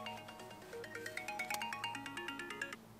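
Mobile phone ringtone playing a short repeating melodic pattern of bright electronic tones, fairly quiet and alone, lasting a few seconds.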